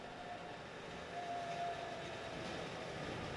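An online electric road train, wirelessly charged from the roadway and running on electricity without rails, moves past with a steady rolling rumble and a faint whine, continuous and moderately near with no talk.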